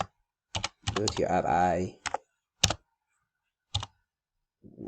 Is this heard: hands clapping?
no